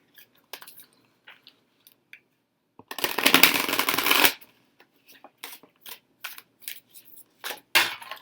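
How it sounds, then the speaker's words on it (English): Tarot cards being shuffled in a rapid riffle burst lasting about a second and a half, followed by scattered soft card taps and flicks, close by. "We'll go ahead and shuffle him into the deck and get started."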